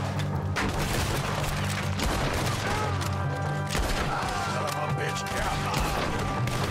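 Gunfire in the Red Dead Redemption 2 video game during a shootout on Guarma, bursts of rapid shots and crashes over dense game noise, loud and continuous with a voice speaking over it.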